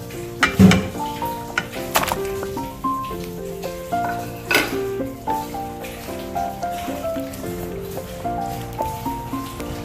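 Sweet potato being stirred into cardamom-spiced kheer in a pot, with clattering spoon-against-metal scrapes and soft wet sloshing throughout, close and moderately loud under steady tonal background music.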